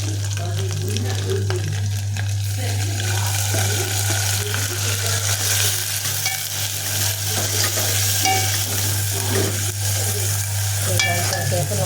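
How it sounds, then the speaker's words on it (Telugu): Fish frying in hot oil with ginger and onion, stirred steadily in a pan: a loud, continuous close sizzle with scraping stir strokes, no talking. "అల్లం అడుగంటుకోకుండా మంచిగా కలుపుకుంటూ ఉండాలి."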